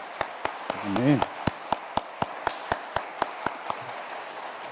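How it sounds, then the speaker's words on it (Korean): A church congregation claps in steady, evenly spaced beats, crisp and fairly close, with a brief spoken word near the start. "큰 박수로 영광 올려드리면 감사하겠습니다"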